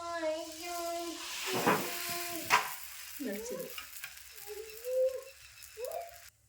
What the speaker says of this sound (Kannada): ಈಗ ಸ್ವಲ್ಪ ಎಣ್ಣೆ ಹೊಡೆದು ಲಡ್ಸಿ